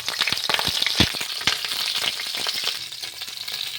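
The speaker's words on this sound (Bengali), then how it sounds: "ফুলকপিগুলো ভেজে নিচ্ছি।" Cauliflower pieces fry in hot oil with a lively sizzle and sharp popping crackles scattered throughout, close and fairly loud.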